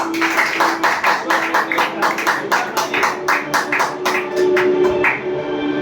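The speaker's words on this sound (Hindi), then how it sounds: "चिराग सर के लिए जोरदार ताली" Audience claps rhythmically in unison for Chirag sir at a company experience-sharing event, sharp synchronized beats repeating roughly twice a second, loud and close, with a sustained tone underneath and a looser patter near the end.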